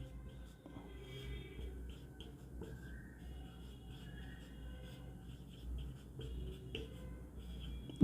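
A pen or marker scratches across a classroom board in soft, intermittent strokes, faint and close over a low room hum with no talking.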